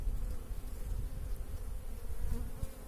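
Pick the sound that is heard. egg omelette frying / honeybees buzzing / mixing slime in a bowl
honeybees buzzing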